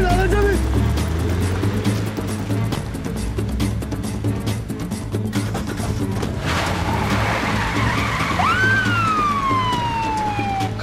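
A car skids away during a police stop of a suspect vehicle, its tires screeching loudly and sliding in pitch while a siren wails and people shout over a steady roar of engine noise.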